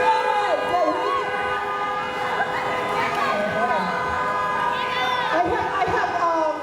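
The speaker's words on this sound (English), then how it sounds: "I have horns honking here." Car horns on Walnut Street in Philadelphia, sustained honking tones layered with city traffic and crowd noise, with a voice carrying over them.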